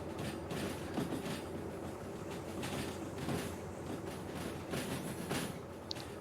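A freight train in the video game Derail Valley rolls steadily along the rails, a continuous loud rumble with faint clicking from the wheels and no talk.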